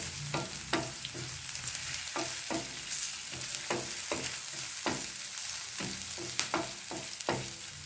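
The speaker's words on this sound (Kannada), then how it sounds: "ಚೆನ್ನಾಗಿ ಫ್ರೈ ಮಾಡಬೇಕು" Prawn masala base frying in a pan, a steady sizzle broken by repeated scraping strokes of a spoon stirring at an uneven pace, close and fairly loud throughout with no voices.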